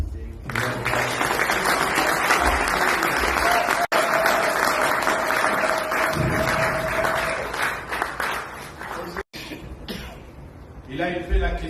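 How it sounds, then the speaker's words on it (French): Audience at an embassy genocide commemoration in Paris breaks into sustained clapping, with coughs and brief voices mixed in and a short dropout partway through. "Si vous êtes d'accord avec moi, applaudissez."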